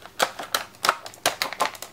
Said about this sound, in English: If I could get it out of the package to show you guys.